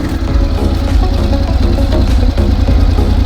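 A Honda X-ADV 750 motorcycle with its standard exhaust idles close by with a steady, low chugging rumble, continuous and loud, with no voices.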